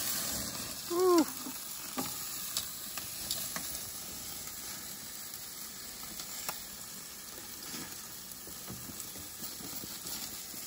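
Meat searing on a grill at a fall cabin barbecue, a steady close sizzle with a brief whistling squeal near the start, then a constant hiss with scattered small crackles.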